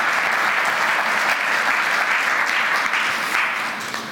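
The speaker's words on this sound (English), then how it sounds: "you can give a round of applause and be glad that we've ended" An audience claps at the close of a conference talk on data security, a dense, even wash of applause that stays strong throughout and fades slightly at the very end.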